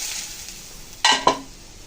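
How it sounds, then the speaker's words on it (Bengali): Bitter gourd and potato pieces frying in a pan for a village-style dish, a steady soft sizzle with two sharp stirring scrapes close by. "এখন উচ্ছে আলু কিন্তু প্রায় ভাজা হয়ে গেল।"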